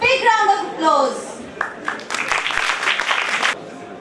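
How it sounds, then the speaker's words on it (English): An audience at an international conference on textile composites bursts into applause to welcome a performer, a dense steady patter of many hands that starts after a short spoken line and runs for about two seconds before cutting off. "Let's welcome a performer with a big round of applause."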